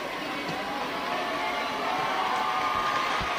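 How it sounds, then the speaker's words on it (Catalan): Applause from a Falles commission crowd at a Valencia awards ceremony, a steady dense wash of clapping and cheering that holds at an even level throughout, with no clear voices above it. "Els aplaudiments de la seva comissió."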